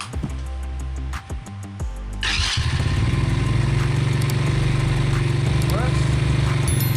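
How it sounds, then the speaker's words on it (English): A small 110cc ATV engine cranks with the choke on, sputtering through a few tries before it catches at about two seconds and settles into a steady, loud, close idle. "Turn on the engine."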